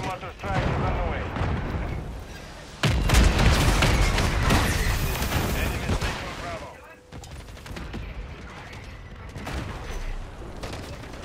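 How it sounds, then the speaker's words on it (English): Mortar strike explosions in a Call of Duty multiplayer match: loud booming blasts and crackling gunfire rolling for several seconds, with a heavy impact partway through, all under a voice talking over the action. "Somebody in their fucking spawn getting hit by my fucking mortar."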